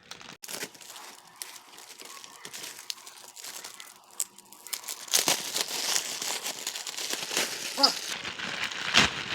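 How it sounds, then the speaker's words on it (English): A Yonex Astrox badminton racket is pulled out of its plastic wrapping, with close, crinkling and tearing plastic that starts light and grows louder and denser in the second half. "Actually let's remove it from the plastic first."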